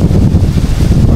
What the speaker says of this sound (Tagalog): pabugso-bugso na po ang hangin ngayon.